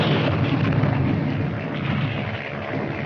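Artillery fire directed by a Piper Cub spotter plane, heard as a dense, sustained rumble of explosions and booms with no clear gaps, loud and steady throughout.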